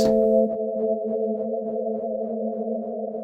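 A sustained resonant tone through the Valhalla Supermassive reverb plugin, with a fluttering, pulsing reverb tail that repeats in quick, even ripples, steady and fairly loud throughout.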